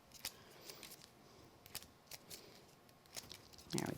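Scissors trim around a paper craft die cut, a series of quiet, close snips and paper rustles with short gaps between them.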